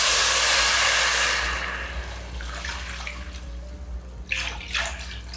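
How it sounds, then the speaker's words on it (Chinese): Chicken bone stock is poured into a pot in a home kitchen with a loud rushing splash that fades into a softer trickle, followed by a few brief stirring splashes. "鸡骨高汤1600cc 下来"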